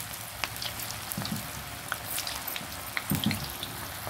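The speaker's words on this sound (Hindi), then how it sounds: "दूसरे बैच के भी मैं डाल दूंगी और ऐसे उलटते पलटते अच्छे से मैं फ्राई कर लूंगी" Second batch of cabbage Manchurian balls deep-frying in hot oil, a steady close crackling sizzle with scattered sharp pops and a couple of brief bubbling bursts, no voices.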